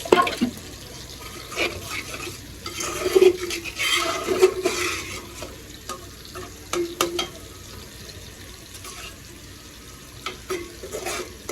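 Water and broth poured into a pan of fish curry simmering over tomato and spice masala, giving loud splashing and sizzling bursts early, then fading into a quieter bubbling hiss with occasional clinks.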